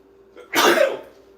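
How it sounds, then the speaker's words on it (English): A single loud, sharp sneeze bursts out close by, one abrupt explosive blast that quickly trails off into quiet. "Sneeze."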